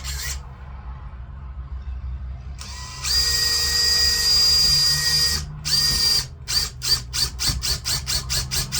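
Power drill whirring into a workpiece clamped in a vise while shaping a chess rook, a steady high whine that breaks into short stuttering bursts near the end, close and alone.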